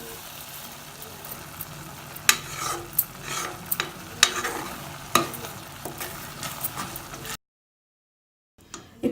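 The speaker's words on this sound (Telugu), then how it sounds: "ఇట్లా మీడియం ఫ్లేమ్లో అడుగంటకుండా తిప్పుకుంటా కుక్ చేసుకోండి" Sweet pongal rice with ghee is stirred in a pan over medium flame, with sticky scraping strokes and a soft sizzle, close by, then an abrupt cut to silence near the end.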